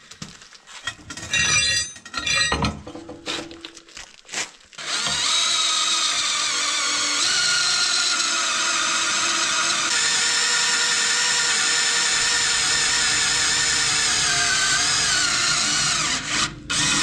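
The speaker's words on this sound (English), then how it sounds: "So this thing literally drills faster than the other thing." Power drill boring steel during a scrap-built hydraulic tree shear project: a sustained, loud, steady whining grind running for about twelve seconds, preceded by short bursts, clicks and metal clinks as the bit starts.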